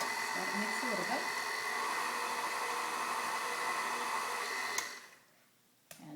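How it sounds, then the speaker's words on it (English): An electric mixer runs on low through red velvet cupcake batter, a steady close whirring hum that holds for several seconds, then cuts out abruptly near the end with a small clack. "Turn the mixer to low."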